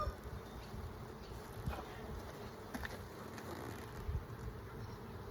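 Honey bees buzz around a beehive in a steady, droning hum, close and continuous, with faint bumps and handling sounds underneath.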